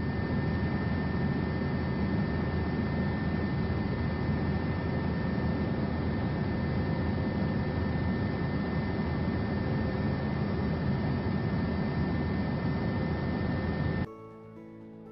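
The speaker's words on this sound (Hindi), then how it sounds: "इस दृश्य को फिल्माया गया है उस हेलीकॉप्टर से जिसमें सवार होकर प्रधानमंत्री नरेंद्र मोदी शनिवार को फिलिस्तीन के रामल्ला पहुंचे।" Steady, loud rotor and engine roar inside a helicopter flying over Ramallah, Palestine, carrying a prime minister, filling the cabin without a break before cutting off abruptly near the end.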